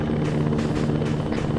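Arma 3 helicopter hovering close by, a loud continuous rotor thump with a deep, steady engine drone throughout.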